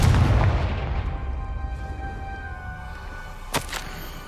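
A Confringo fire spell blasts in a Harry Potter video game, a loud booming burst up front that rumbles and fades, followed by a sharp crack near the end over a low ambient hum.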